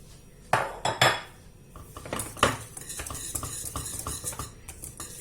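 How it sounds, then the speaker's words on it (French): Spoon stirring butter into thickened cream for an apple tart: a few sharp clinks against the pot, then steady quick scraping and tapping strokes, close and clear, without speech. "On mélange jusqu'à ce que le beurre il soit complètement fondu."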